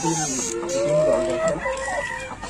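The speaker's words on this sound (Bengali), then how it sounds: "এখানে অল্প কিছু লেয়ার মুরগি আছে" Layer hens in a small backyard poultry setup cluck and squawk repeatedly, with drawn-out calls close by and a faint voice in the background.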